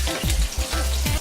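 Onions sizzling in a frying pan, a steady loud crackle and hiss up close with a few soft scraping stirs breaking the texture.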